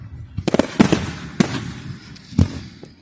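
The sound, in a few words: fireworks exploding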